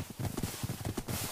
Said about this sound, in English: Why is there a skeleton horse here?